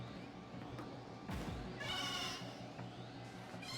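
A sheep in Pokémon Legends Z-A lets out a wavering bleat in the middle of a quiet game backdrop with faint music, standing out clearly for about a second.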